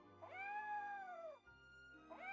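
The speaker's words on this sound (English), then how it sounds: "There's a blue-eyed kitty by the looks of it." A blue-eyed kitty in the game Triangle Strategy gives one long, clear meow, then starts a second as a low, steady hum carries on underneath.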